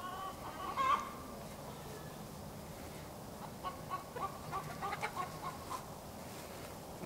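A farmyard chicken clucks softly near a henhouse where eggs are collected, with one sharper call early on and a few scattered quieter clucks later over a steady low background hiss.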